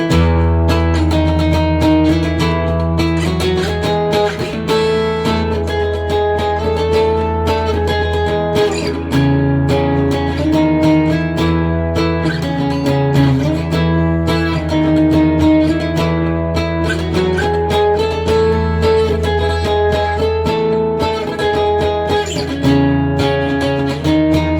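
Acoustic guitar run through a Fender Smolder acoustic overdrive pedal into a Roland Cube amp, playing octave lines: steady, sustained distorted melodic notes with rich harmonics, continuous and loud with no talking.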